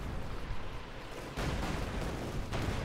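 Su-85 and Panzer IV tank cannons firing in the video game Company of Heroes 2, two heavy booms cutting through a constant rumbling battle din, one midway and a softer one near the end.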